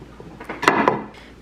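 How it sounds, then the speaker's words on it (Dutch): Knife slicing through half an onion on a cutting board in a home kitchen while preparing Chinese nasi: a few close, crisp chopping knocks clustered together, then quiet. "Dan nu even een uitje snijden."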